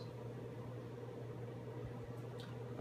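A microwave oven runs while heating food, giving off a steady low electrical hum and fan whir at moderate level, with a few faint clicks near the end.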